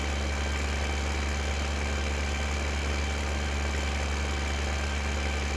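A tractor engine idles in the video game Farming Simulator 15, a steady, faint, low rumble with no variation and no talking.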